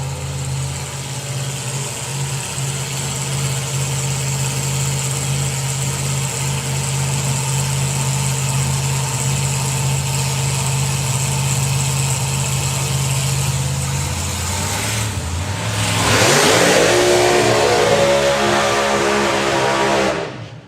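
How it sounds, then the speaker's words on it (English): Nostalgia drag racing cars side by side at a drag strip, heavy burnouts: a loud, sustained engine drone holds steady, then surges into a harsher roar with tire screech near the end. "Side by side, heavy burnouts for you there."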